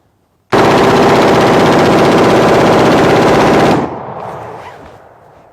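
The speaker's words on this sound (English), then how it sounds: "Did you hear that rate of fire pickup on that?" AR-15 rifle firing one long burst of rapid automatic gunfire, loud and close, starting abruptly and cutting off after about three seconds, then a short fading echo.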